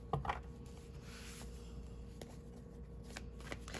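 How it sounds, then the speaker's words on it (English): Tarot cards being shuffled and pulled from the deck, soft quiet riffling and sliding close by with small taps, no talking. "Let's pull some more cards."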